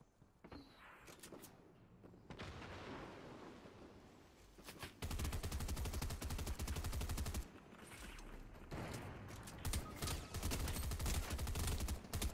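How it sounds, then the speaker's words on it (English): Gunfire in the Fortnite video game: rapid volleys of shots crackle in dense, overlapping bursts, sparse and quieter at first, then loud and nearly continuous for the second half, with no talking. "Oh, I can't even tell where he's shooting from"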